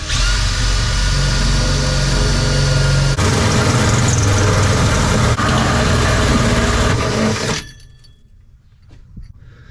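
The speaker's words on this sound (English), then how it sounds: "So let's drill this hole." A power drill bores a hole through a metal breaker box, a loud sustained grinding whine with a few shifts in pitch and pressure, then cutting off abruptly to near quiet with faint rattles.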